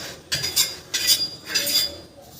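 Dried fish being moved into a dish produces a few light clinks and scrapes of utensil against the plate, spaced in short bursts close by in a quiet kitchen.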